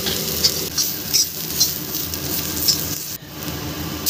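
Ginger goes into a hot pan of tamarind chutney with fennel, bringing a steady near sizzle and stirring scrapes, with soft clinks and pops repeating every second or so, and no talking.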